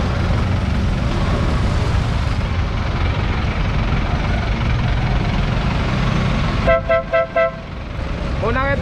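Tricycles at Paco Market, a car-style horn honking in a few short repeated toots near the end after a long stretch of idling engine and street noise, with a voice talking over it.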